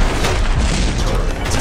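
A loud, sustained rumbling blast from a rocket explosion in the shooter game Masked Forces, broadband and roaring throughout, with faint voice underneath.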